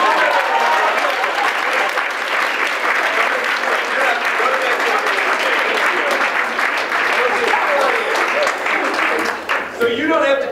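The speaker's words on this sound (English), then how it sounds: "Let's give a round of applause for them" Audience applause after an improv interview, a dense, loud, sustained wash of clapping from a crowd that fades slightly at the very end.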